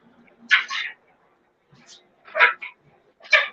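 A dog gives a few short, high yelping barks and whines in separated bursts with quiet gaps between, fairly close indoors.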